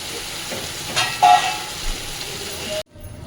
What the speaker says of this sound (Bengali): এর মধ্যে এবার আমি মাংসটা দিয়ে দেবো